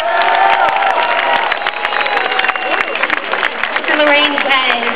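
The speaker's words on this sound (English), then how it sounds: "Let's give her a round of applause" Crowd at the Diablo 3 launch event breaks into loud, sustained applause with cheering and whoops, a dense wall of clapping that fills the whole stretch.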